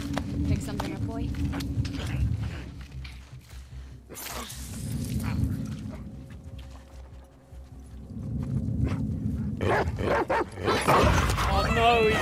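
Dog barking and whimpering from an enemy dog in The Last of Us Part II, with bursts of canine noise amid game sounds and people talking over much of it, louder near the end.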